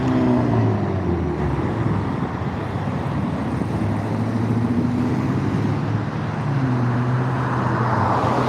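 Large buses roll past on a road on a cool day, a steady, loud, low engine and tyre rumble that swells and fades over several seconds with no talking.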